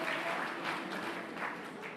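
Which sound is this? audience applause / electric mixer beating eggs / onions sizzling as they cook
audience applause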